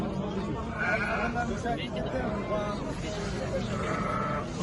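Several sheep bleat intermittently amid a busy livestock market crowd in Kara-Balta, with people talking and chattering throughout in the background.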